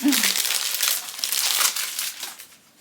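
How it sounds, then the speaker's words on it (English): Dior beauty product packaging, a Diorissimo box, being ripped and crinkled open up close, a continuous loud crackling of paper and plastic for nearly three seconds that fades at the end. "Maybe I do have to rip something. It's okay, you know what? I'm ripping it."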